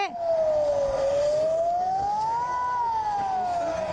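A siren wails during a live news broadcast, one loud rising and falling tone that dips, climbs and sinks again over a few seconds, close and dominant.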